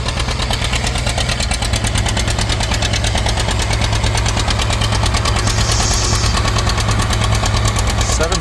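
A John Deere tractor engine pulls a plow, a loud, steady diesel chug with rapid rhythmic knocking and vibration, close and continuous.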